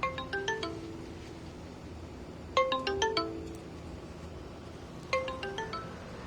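Phone ringback melody heard three times, each a short bright burst of chiming tones separated by pauses, moderately loud and clear over a quiet background during an outgoing call.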